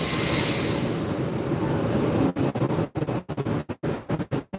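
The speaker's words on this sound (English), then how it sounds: "there goes the Munkho East special train" East Rail Line special train passing close by, a loud steady rumble of wheels and carriages that breaks into rapid gaps and clatter as the last cars go past.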